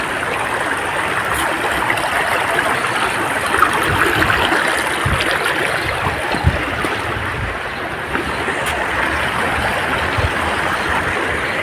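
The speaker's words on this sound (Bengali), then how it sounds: "একদম চুপচাপ, শুধু জলের শব্দ।" A river rushes over stones along a quiet forested stretch between Damdim and Ambiok, a steady broadband roar of flowing water, close and continuous, with no voices.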